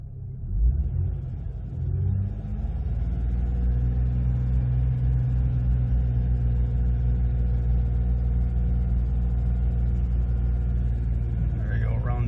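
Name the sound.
Jeep Cherokee engine idling warm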